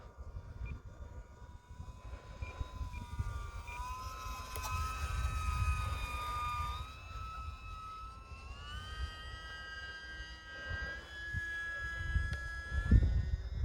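A small E-flite UMX Timber X model airplane's motor whines steadily with shifting pitch, rising and falling as it passes, over light wind rumble.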